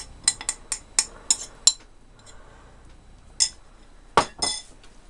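A spoon clinks sharply against a bowl while a spice and turmeric mixture for sweet pickle is stirred, giving a quick run of bright taps, a pause, then a few more strikes close by.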